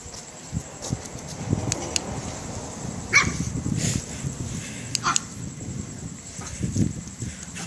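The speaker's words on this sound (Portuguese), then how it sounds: "Bebê cachorro" Short, high yaps from a puppy at a few scattered moments over a constant noisy background, with thumps and shuffling in between.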